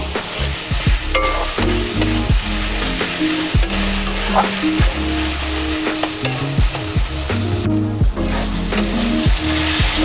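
Spice paste sautéing for chicken tehari, loud continuous sizzling with frequent rhythmic clanks and scrapes of a spatula stirring in the pot, close up.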